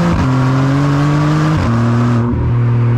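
A Maserati MC20 fitted with a Novitec exhaust with switchable flaps revs hard and loud, the engine note climbing in steady sweeps, dropping briefly and climbing again at close range.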